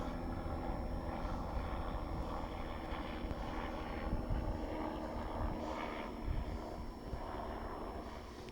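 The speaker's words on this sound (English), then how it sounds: "Another helicopter." A steady, distant helicopter drone with a low rotor-like throb at an air display at RNAS Culdrose, continuous and fairly faint, mixed with light wind noise and no voices.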